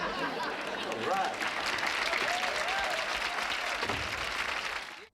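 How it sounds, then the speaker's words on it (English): Loud, sustained applause and cheering from a TV studio audience greeting a character's entrance, a dense wash of clapping that holds steady for about five seconds before quickly fading out. "he would start entering now and getting this wild applause from the audience"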